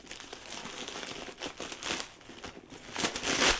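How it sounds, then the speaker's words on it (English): Soft stuffing paper crinkles and rustles as it is pulled from inside a limited-edition Loungefly bag, a close run of crumpling bursts that grows louder toward the end, with no talk. "On the inside, let's take some of the stuffing out."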